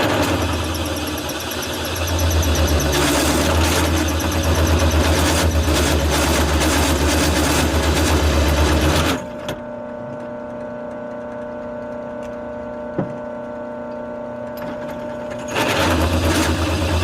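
A Diablo hole saw on a drill bores foundation anchor holes, a loud, close, continuous motor whine for several seconds that drops to a lower hum, then surges again near the end.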